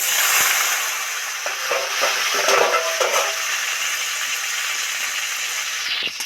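Chopped tomato dropped into hot oil with five-spice, dried red chilli and bay leaf, giving a bright crackling sizzle that eases into a steady fry, with scattered scrapes and clinks of a utensil stirring the pan.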